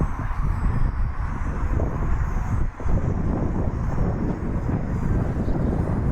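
Small RC Focke-Wulf FW-190 model warplane, an inexpensive foam model, flying loops and rolls on a gusty day, its buzzing electric motor steady and close, heavily mixed with loud wind rumble buffeting the microphone throughout, with a brief dip near the middle.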